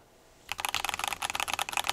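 Rapid typing on a mechanical gaming and programming keyboard, dense bright key clacks starting after a brief quiet moment and continuing in an uneven flurry, close and clear with no talk.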